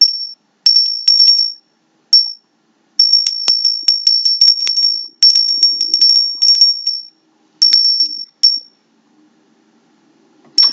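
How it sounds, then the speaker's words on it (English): A small high-pitched bell rung repeatedly in quick bursts, bright metallic rapid tinkling in several clusters with short silences between, close and loud, a faint murmur underneath. "Let me ring the bell."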